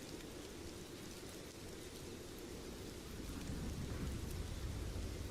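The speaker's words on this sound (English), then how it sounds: "Rain volume too loud." Rain and thunder playing as a steady, dense wash of falling rain with a low rumbling underneath that swells slightly toward the end, continuous and fairly loud, with no talk.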